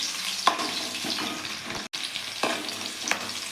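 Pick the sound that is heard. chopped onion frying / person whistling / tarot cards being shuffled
chopped onion frying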